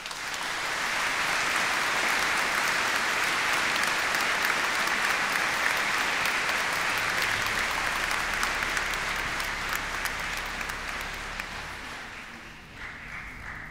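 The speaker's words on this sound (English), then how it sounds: "You all deserve a huge round of applause." Sustained applause from a large audience at a graduation ceremony, steady and loud for most of its length before tapering off near the end.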